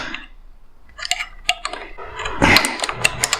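A 10 millimeter wrench works on a fastener on a Kawasaki Vulcan S motorcycle, giving close, sharp metallic ticks and clicks in irregular bursts, thickening into quick rapid clicking toward the end.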